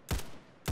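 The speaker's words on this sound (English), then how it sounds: "Matt, what are you shooting at?" Two sharp gunshot bursts ring out in a war video game, one at the start and another near the end, loud and close with a brief noisy lull between them.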